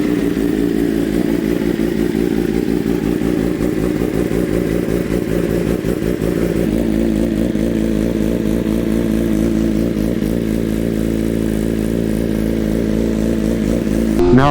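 A BMW M1000RR sport motorcycle on a test ride after repairs and fitted with a new tire, its engine loud and close with a steady rumbling drone and shifting revs throughout.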